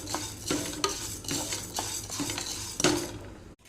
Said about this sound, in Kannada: ಇಲ್ಲಿ ನೋಡಿ, ಹುರುಳಿಕಾಳು ಫ್ರೈ ಮಾಡ್ತಾ ಇದ್ದೇನೆ